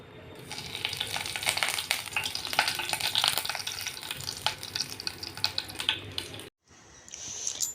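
Food cooks in hot oil, with continuous close crackling sizzle and stirring scrapes that run loud for several seconds, then a short silence and a return of the sizzle.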